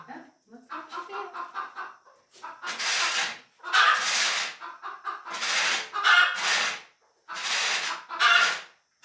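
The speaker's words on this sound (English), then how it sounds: "it looks like the mama hen went out with the baby hen" A mother hen in a sawdust pile with her chick, clucking in repeated bursts at close range, some calls sharp and loud, others softer and quicker.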